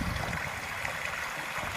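Water tumbling down a small streamside waterfall beside a garden, a steady broadband rush and splash that holds constant and fairly loud throughout, with no talking.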